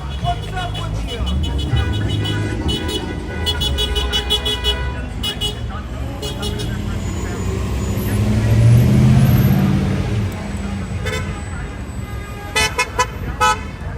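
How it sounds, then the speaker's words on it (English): A bus horn honks repeatedly at a street protest outside Oxnard City Hall, loud, with several short blasts toward the end over crowd noise and traffic rumble, while people talk and shout. "Bus driver, off your horn!"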